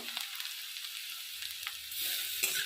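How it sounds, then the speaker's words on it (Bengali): Onion and garlic fry in a pan with a soft, steady hiss and crackle, close by with a few faint scrapes, swelling louder in the last second with a light clink. "পেঁয়াজটার পরে আমি একটু রসুন দিয়ে দিলাম"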